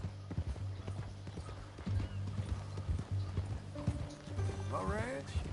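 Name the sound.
horse hooves clopping in Red Dead Redemption II video game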